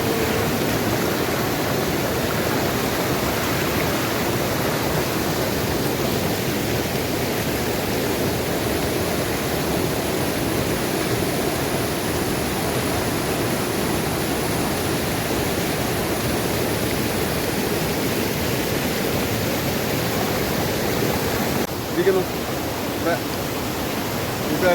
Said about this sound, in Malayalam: ഇതാണ് നമ്മുടെ ഒരു വെള്ളച്ചാട്ടം